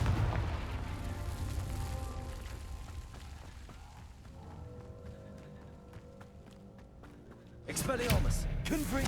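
Confringo fire spell bursting during a Hogwarts Legacy wizard duel, a sustained rumbling blast with a heavy, loud burst near the end.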